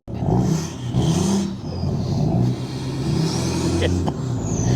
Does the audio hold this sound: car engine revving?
yes